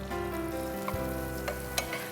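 Chopped onion sizzles steadily in hot oil in a pan, with a few scrapes and knocks as a spoon stirs it, close and continuous with no talking.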